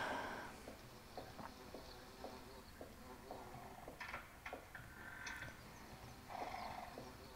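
Faint video-game horse sounds with a regular clip-clop of hooves and a brief whinny, quiet against a soft background hum.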